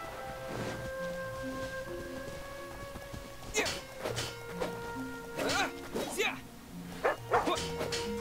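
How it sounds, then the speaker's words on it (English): Cartoonish dog barks and yips from a sword-fighting dog character in the video game Genshin Impact, several short bursts over game music while a person talks. "Sword fighting dog."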